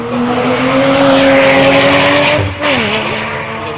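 A Caterham race car with a 180 hp Ford engine, about 600 kg, at a hill climb in Quillan, screams past close by, its loud high engine note holding steady then dropping in pitch as it goes by.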